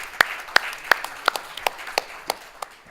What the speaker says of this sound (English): Round of applause for Brian, please.